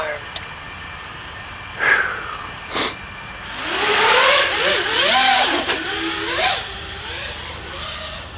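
DJI FPV drone motors whine, rising and falling in pitch in repeated swoops, loud and close, after a couple of short bursts, with a steady hum underneath.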